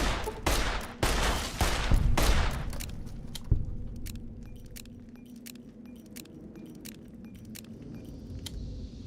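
Service rifle gunfire in Fallout New Vegas opens with a rapid burst of loud, close shots over the first few seconds, then one more sharp report, and gives way to quieter clicks and rattling with low game ambience.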